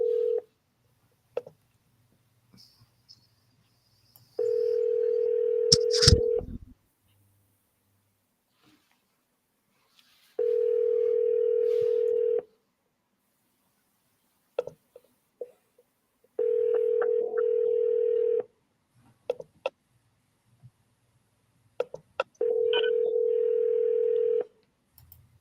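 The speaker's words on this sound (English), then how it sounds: "I'm dialing the next one." Telephone dialing for a cold call: a steady dial tone sounds in four evenly spaced bursts of about two seconds each, separated by quiet gaps with scattered clicks and faint breathing, close and without talk.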